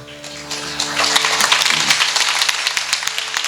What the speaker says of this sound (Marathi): एकदा आपण जोरदार टाळी वाजवली पाहिजे.